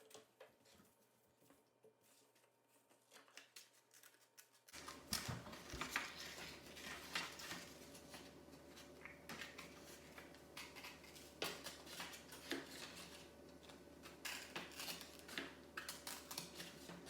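Scissors cutting out paper circles, a quiet room that turns to close, repeated snips and light paper rustling, with small clicks and handling noises in a steady, uneven rhythm.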